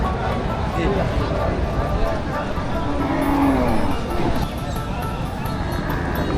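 Cattle moo at a busy Bogra livestock market ahead of the Qurbani Eid, one drawn-out low call rising over constant crowd babble and nearby talking voices.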